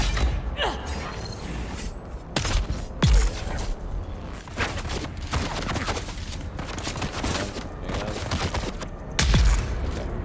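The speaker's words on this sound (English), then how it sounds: "Big explosion for some reason." Explosions in the video game Dune Awakening: heavy booming blasts with thuds, set amid rapid gunfire-like clatter and mechanical creaks, loud and dense.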